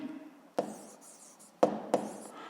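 A pen or chalk writing on a board during a physics lesson, three short sharp taps and strokes separated by brief quiet, faint and close.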